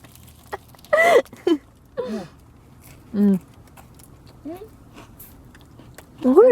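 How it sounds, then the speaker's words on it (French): Someone bites into a huge, piping-hot snack at Disneyland, with a few distinct crunchy bites and chews spaced out between bursts of nearby voices talking and reacting. "essaye de croquer dedans, je veux te voir croquer dedans"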